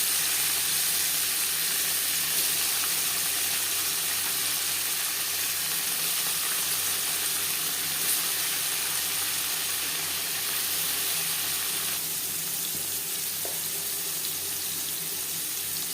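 Paneer frying lightly in a pan gives a constant, even hiss of hot oil close by, unbroken and steady throughout with no voices.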